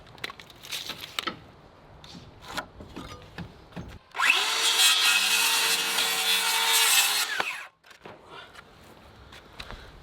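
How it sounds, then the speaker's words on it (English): A power saw bites into wooden deck blocking for a 45-degree cut, whining loudly and steadily for about three seconds before spinning down, with quieter handling and tapping noises on either side. "what I'll do, it's gonna be a 45-degree cut on both sides"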